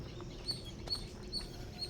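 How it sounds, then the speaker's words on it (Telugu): Birds call in a forest, faint high chirps repeating roughly every half second over a low background rumble, with no voices present. "ఆ పక్షుల కూతలు వినండి"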